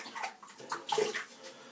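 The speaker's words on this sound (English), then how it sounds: "So I'll just give that a quick rinse off." Pure badger shaving brush rinsed under running tap water after lathering with a soft soap, a brief soft splashing and trickling close by, quiet and alone.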